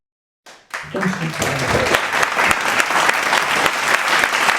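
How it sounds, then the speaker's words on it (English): After a brief silence, applause from a tribute audience for poet Amanda Anastasi bursts in and holds as a dense, steady roar of many hands clapping close by. "Clap again for Amanda Anastasi, please."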